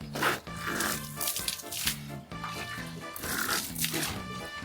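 Pigs in a Moldovan village grunt and oink in repeated bursts close by, mixed with nearby voices and rustling.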